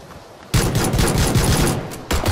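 Rapid pistol gunfire in PUBG bursts in after a quiet half-second, a close, loud string of quick shots packed together, pausing briefly before a final few cracks.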